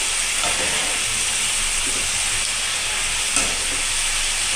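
Amla gooseberries frying in a pan on a low simmer for pickle, giving a steady, dense hiss of sizzling oil that runs without a break, with a few faint stirring knocks.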